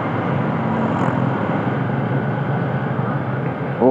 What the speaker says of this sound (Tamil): முன்னாடி குப்பை வண்டி போகுது.